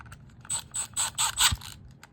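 A screw is tightened down on the neutral wire terminal of an electrical outlet, giving about five quick, close ratcheting clicks in a steady rhythm, with no talking.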